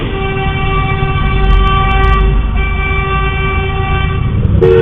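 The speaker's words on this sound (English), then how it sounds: "every single one of them was driving by honking the horn" Car horns blaring in a steady, loud, sustained honk close by, held almost unbroken for the whole stretch with a brief sharp click near the end and no talk.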